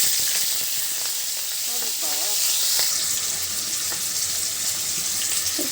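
Spices hit hot oil in a kadai while a bottle gourd curry with taki fish is being cooked, making a steady, fairly loud sizzle that fills the whole moment with a constant hiss.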